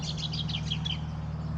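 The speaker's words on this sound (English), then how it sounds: "brown honeyeater, that chick click click click click sound" A brown honeyeater calls from the top of a flowering eucalypt, a quick run of bright repeated click-like chips over a steady low background hum.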